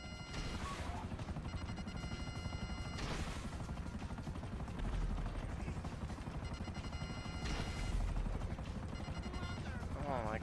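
A helicopter in a GTA heist prison-break mission throbs steadily with rotor and engine noise, mixed with bursts of game effects and voices.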